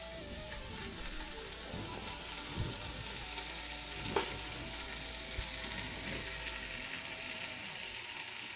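Par-cooked paella packed into onion rings sears in a hot pan, a steady close sizzle and crackle running throughout with a few brief clicks and scrapes, no talking.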